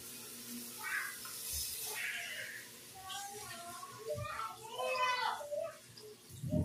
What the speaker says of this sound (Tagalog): Lalagyan ko siya ng kunting tubig.